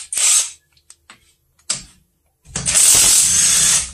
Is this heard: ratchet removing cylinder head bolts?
yes